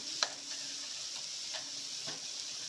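Onion dosa batter sizzles on a hot pan with a close, steady hiss, broken by a few soft scraping ticks, and no talking.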